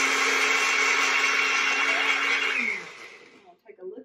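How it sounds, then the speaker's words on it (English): A kitchen blender whirs steadily and loudly while blending strawberries, then winds down and stops near the end, leaving a few faint clicks. "You really just want to emulsify it until your strawberries are blended up."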